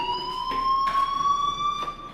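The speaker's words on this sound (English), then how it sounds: "do you hear that fire alarm? That means you should be outside." A fire alarm in the video game Life is Strange sounds a steady, continuous electronic tone throughout, with a few brief broadband bursts layered over it and no talking.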